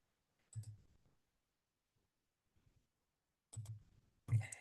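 A few soft, close clicks from a computer mouse in a quiet room, an isolated click followed later by a pair of sharper clicks.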